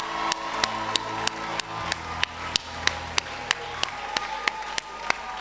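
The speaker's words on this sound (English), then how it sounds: "I would like for you to give these esteemed gentlemen a proper round of applause" An audience applauds graduating young men at the Wolmer's High School for Boys upper sixth form leaving ceremony, with crisp claps in a steady, evenly spaced rhythm over a soft hum of background sound.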